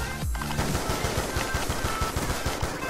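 Automatic gunfire in Call of Duty: Black Ops 2 sounds as a fast, steady stream of close, sharp shots lasting the whole moment, opened by a single louder blast, with no talking.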